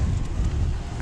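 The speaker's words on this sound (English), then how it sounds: "It's very windy." Strong wind buffets the microphone on a mountain summit at night, a steady low roar rumbling loud and continuous without a break, with no voices.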